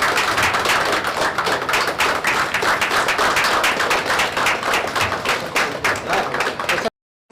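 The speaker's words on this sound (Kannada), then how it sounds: "ಜೋರಾಗಿ ಚಪ್ಪಾಳೆ ಬರಬೇಕು." An audience at the Dr. Agarwal's Eye Hospital decade anniversary celebration claps steadily, a dense, even patter of applause that continues for about seven seconds before cutting off abruptly.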